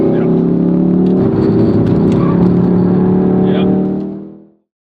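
A Ford Focus RS engine held under steady throttle on the Nürburgring GP track, a loud, continuous droning roar heard from close by that holds level for about four seconds, then quickly fades out.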